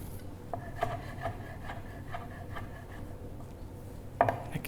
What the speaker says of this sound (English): For the eggs, I will just chop them.